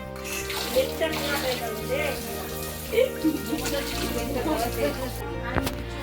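Tap water runs steadily over neem leaves being rinsed during Kali puja preparations at home, a continuous splashing wash beneath close voices talking, with a few sharper clatters along the way.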